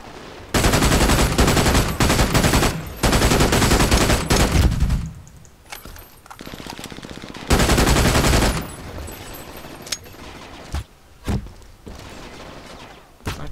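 Loud, sustained bursts of automatic gunfire from the shooter game Brink, roughly two long volleys followed by scattered sharp single shots and short bursts, with no talking over them.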